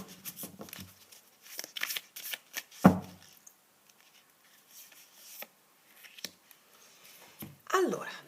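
Oracle cards being shuffled and laid out, soft papery riffles, flicks and slaps in short scattered bursts at close range, with a sharper snap partway through and someone speaking at times.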